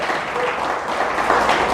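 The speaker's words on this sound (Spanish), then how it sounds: "¿Le damos un aplauso a Dios?" Church congregation applauding together, a steady dense wash of clapping that holds throughout and swells slightly toward the end, with no voices standing out.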